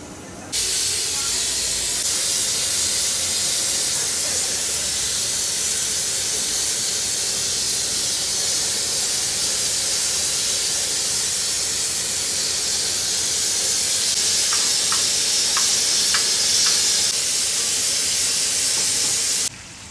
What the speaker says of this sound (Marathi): तव्यावरती फ्राय करूया त्यांना